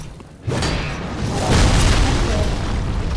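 A giant's arrow strikes with a heavy booming impact in Dark Souls III, bursting in loudly after a brief quiet and swelling into a dense, crashing roar that holds to the end.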